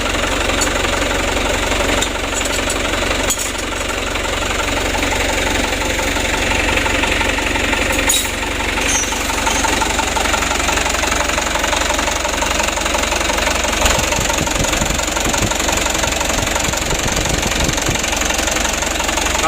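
Diesel engine idling steadily at about 600 RPM after a Bosch injection pump repair, a continuous close rumble with a low knocking pulse throughout, no speech.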